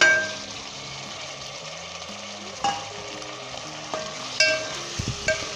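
Mutton and green chillies frying in ginger, garlic and onion for a Punjabi mutton dal, a steady moderate sizzle with occasional clanks and scrapes of a spoon against the pot, close with no talking.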